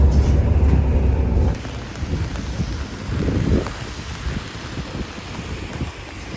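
Steady rain falls outdoors in Italy, a dense continuous hiss with some wind rumble, louder for the first moments and then settling into an even wash.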